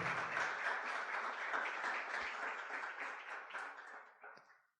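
A church congregation applauds with sustained, dense clapping that holds steady before fading out near the end.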